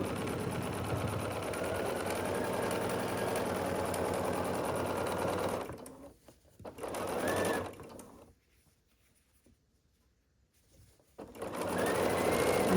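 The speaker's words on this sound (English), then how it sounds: "I'm just sewing on the last border here." A long arm sewing machine stitches a quilt border, a steady rapid mechanical hum that runs for several seconds, stops, restarts briefly, falls silent, then starts again, close and clear.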